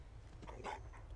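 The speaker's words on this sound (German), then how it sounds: "Begrüße den Hund." A dog companion in the video game Fallout 4 gives a brief, quiet bark or yip over a low background rumble, with no talk over it.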